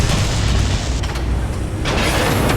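Explosion of a radome in the Metal Gear Solid video game: a sustained, loud booming roar with rumbling debris throughout, a brief dip midway, then a renewed burst of blast noise toward the end.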